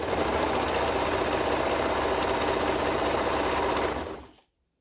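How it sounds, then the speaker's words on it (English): A sewing machine stitches a binding strip around the hood opening of a toddler hoodie, a loud, close, continuous mechanical whir that runs evenly for about four seconds before stopping abruptly. "And I'm just sewing in the circle here of the hood."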